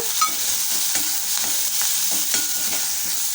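Grated ginger and chillies are stirred into a hot pan, giving a bright sizzle broken by repeated scraping strokes of a spoon, close and fairly loud.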